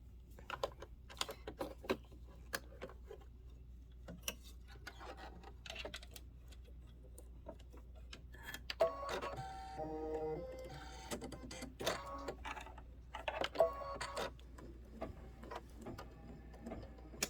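An embroidery machine satin stitches around a present design with rapid, steady ticking and clattering needle strikes, a continuous mechanical patter with brief busier bursts, heard close with no voices.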